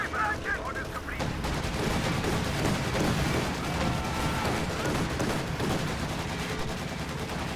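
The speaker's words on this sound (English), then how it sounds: "Heavy machine gun from Austin!" A heavy machine gun fires in a video game battle, delivering a long, dense burst of rapid gunfire with booming impacts mixed in, loud and continuous.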